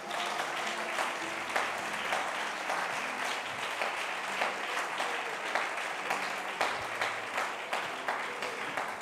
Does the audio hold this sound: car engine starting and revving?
no